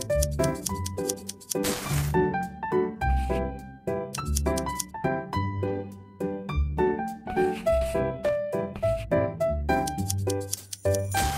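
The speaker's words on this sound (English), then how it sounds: "Let's cut out the details" Cutting fabric pieces in a sewing dress-up game, quick rhythmic snips repeating throughout over a light musical backing of tonal notes.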